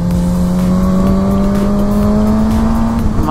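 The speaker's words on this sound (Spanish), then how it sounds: "¡Madre mía, cómo suena esta moto!" Suzuki GSX-R 750 motorcycle engine accelerating on a road ride, a loud close whine rising steadily in pitch over a few seconds with strong wind rush and no talking.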